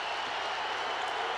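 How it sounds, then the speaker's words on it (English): An Iowa State crowd roars at an NCAA tournament basketball game, a steady wash of cheering and applause that holds at full strength the whole time, broad and distant-sounding. "Here comes the crowd from Iowa State"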